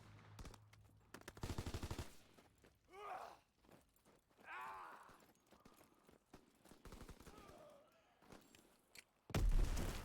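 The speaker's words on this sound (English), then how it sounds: "Enemy strafing run inbound!" Enemy aircraft strafe the ground in the World War II shooter game Call of Duty WW2, with short rapid bursts of machine-gun fire at the start and end amid quieter battlefield sounds and distant shouts.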